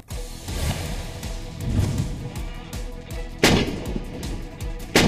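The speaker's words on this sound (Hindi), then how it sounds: "भारतीय सेना के जखीरे में अल्ट्रा लाइट होवित्जर M777 तोप को शामिल किया गया है।" An M777 ultra-light howitzer firing during field trials at Pokhran, Rajasthan, heard as heavy booming blasts and thuds with rumbling decay, including a sharp loud report about two-thirds through.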